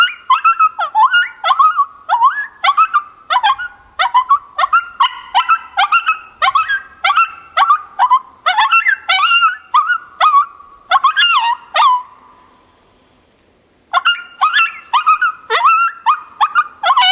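A predator call imitates female coyote whimpers: loud, close, high, quivering whines in rapid rhythmic runs, a brief pause, then another run of whimpers, with no talking.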